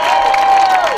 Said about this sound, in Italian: sentite gli urli della folla